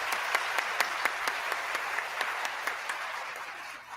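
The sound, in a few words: cameraman clapping after a debate speech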